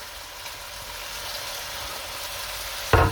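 Chopped onions, peppers and tomatoes sizzle with beef in a pan for a beef and paprika stew, a steady close frying hiss ending in a sharp burst as more food drops in.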